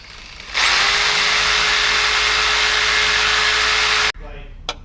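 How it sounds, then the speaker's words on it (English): A Sawzall reciprocating saw cuts through a Nissan 350Z control arm in a loud, steady high-pitched whine that runs for about three and a half seconds before stopping abruptly, followed by a faint clatter. "we're going to cut it with the Sawzall."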